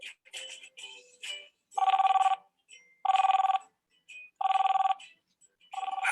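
Telephone ringing in repeated bursts, four loud double-trill rings spaced roughly a second apart, with quieter electronic chirps and tones between them; no talking.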